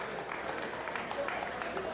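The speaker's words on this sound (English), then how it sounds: "Round of applause for someone that's fighting someone he doesn't know." Steady applause from a press conference audience before a boxing match, a continuous wash of clapping with some crowd noise and voices mixed in.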